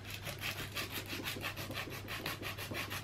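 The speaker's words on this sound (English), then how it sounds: "start filing away with that." Steady rhythmic rasping of a nail file being worked back and forth across an acrylic nail, close up and continuous with no talking.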